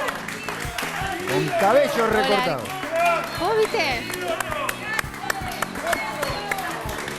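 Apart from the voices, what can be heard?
audience applause for Rudolf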